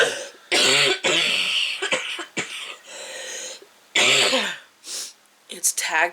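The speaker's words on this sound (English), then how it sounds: "It's tag team coughing." Several harsh coughs and throat clearings in quick bursts, close by, with breaths and short pauses between them.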